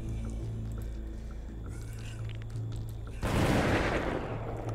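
A burst of gunfire from the zombie survival video game Dead Age breaks in suddenly after a quiet stretch of low background hum and carries on as a dense, noisy barrage.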